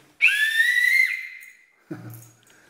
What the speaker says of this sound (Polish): Tu jest piękny gwizdek do przywoływania naszych gołębi.